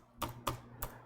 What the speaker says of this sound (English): I'm typing with one finger here